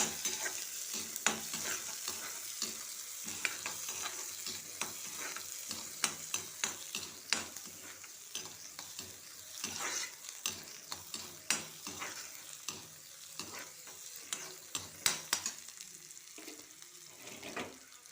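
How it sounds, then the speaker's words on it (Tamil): Small shallots sauté in a pan for a fish curry, with a continuous crackling sizzle and frequent sharp scraping stirs, close and busy throughout. "சின்ன வெங்காயம் போட்டுக்கோங்க ஃப்ரெண்ட்ஸ் போட்டு நல்லா வதக்கிக்கணும்"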